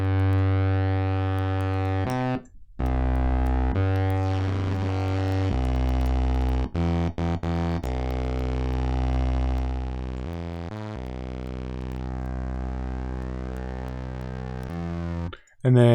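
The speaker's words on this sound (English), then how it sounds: "It's like a sort of bit crushing distortion." A synth tone run through a bit-crushing distortion effect in Reaper, loud and buzzy with stepped, gritty harmonics, holding and shifting pitch over several sustained phrases broken by short abrupt cutoffs.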